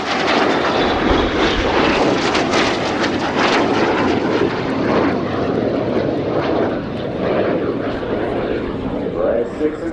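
Royal Air Force Red Arrows jets roar overhead in a flying display at RIAT, a loud, continuous engine rush that swells and fades, with a commentator talking over it.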